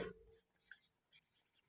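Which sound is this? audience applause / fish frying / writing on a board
writing on a board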